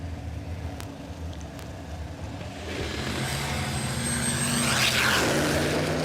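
Drag racing car at Warwick Dragway roaring past at a no-prep event, a broad engine rumble swelling steadily louder as it nears, with a couple of faint clicks early on and no talk.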